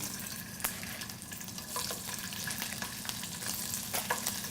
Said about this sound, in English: the pan is nice and hot. I put my shrimp in.